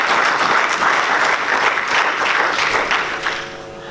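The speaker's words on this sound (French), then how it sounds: "Applaudissez pour Jésus-Christ." A church congregation applauds during a sermon, loud dense clapping from many people filling the space continuously before tapering off near the end.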